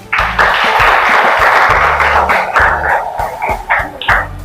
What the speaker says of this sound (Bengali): আরো একবার জোরে হাততালি হয়ে যাক।